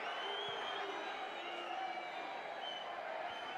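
Football stadium crowd at Lincoln City versus Huddersfield Town near the end of the match, a steady distant roar of voices and whistling, faint and continuous throughout.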